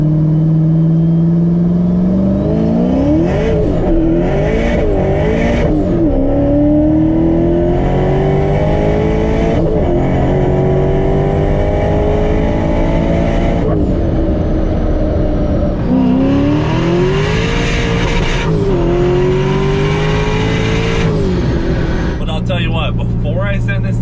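A tuned C7 Corvette making over 1,000 horsepower on pump gas accelerates hard, its loud engine rising in pitch through several gear changes in repeated sweeping pulls, with people talking over the roar.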